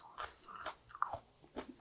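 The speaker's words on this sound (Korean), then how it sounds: "무는 아삭아삭하면서" Raw radish crunched while eating, a few crisp close bites and chews coming in separate bursts in a quiet room, with no talking.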